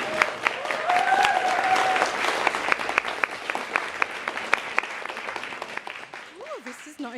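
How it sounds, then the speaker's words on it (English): An audience at an International Women's Day event applauds a speaker with sustained, dense clapping that gradually thins out toward the end. Some voices can be heard at the close. "So can you all give a big clap for our first speaker?"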